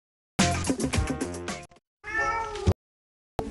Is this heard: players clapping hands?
no